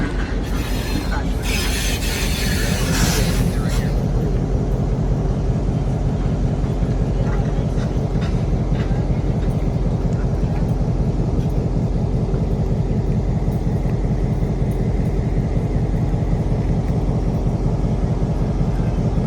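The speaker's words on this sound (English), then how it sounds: "here comes the locomotive, gonna turn." A 125-ton locomotive rolls onto a turntable and turns in Chattanooga, its steady, loud rumble and clatter of wheels and machinery continuing throughout, with a brief burst of high squealing metal near the start.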